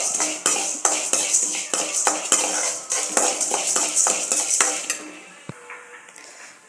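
Horse gram roasts in a pan over a low flame, and a metal spoon stirs and scrapes it in a brisk run of about a dozen sharp strokes. The strokes stop, then a soft clink follows near the end.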